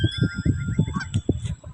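A flock of geese honks in quick repeated bursts inside a video game, with game music running underneath.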